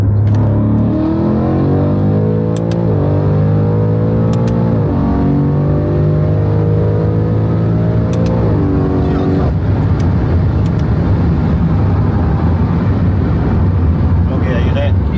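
A stock-turbo BMW M5 F90 engine revs hard and close, climbing in pitch through several rising sweeps with brief drops between, then settling into a loud steady drone as voices talk.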